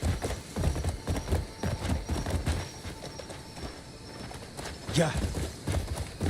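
Hoofbeats from Torrent, a horse in a video game, clatter in a steady rhythm under game ambience while someone talks over it.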